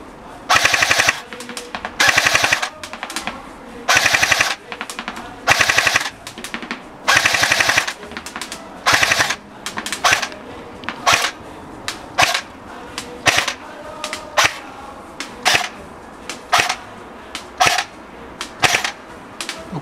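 An MG42 airsoft electric gun fires outdoors, loud rapid buzzing bursts of varying length alternating with shorter clusters and single shots, each separated by brief pauses, with no talk over the firing.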